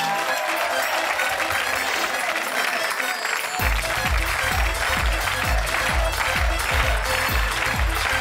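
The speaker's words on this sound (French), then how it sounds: "Et on va l'accueillir avec vos applaudissements." Studio audience at a French television show breaking into applause, which swells midway into steady rhythmic clapping together with music.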